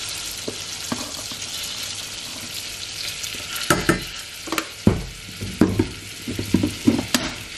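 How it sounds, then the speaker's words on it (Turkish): Flour toasting in melted butter for lentil soup, a continuous close sizzle with repeated scraping stirs that grow more frequent and pronounced in the second half. "Ve unumu birazcık kavuracağım"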